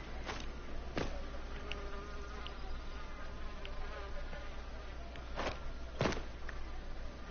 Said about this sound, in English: I also hear bees.